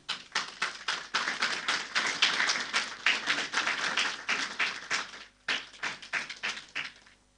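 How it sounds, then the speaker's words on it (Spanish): A church congregation at a Sunday service claps for the choir, a dense, close burst of hand claps lasting several seconds that briefly dips, then resumes and tapers into scattered claps. "Los recibimos con un fuerte aplauso."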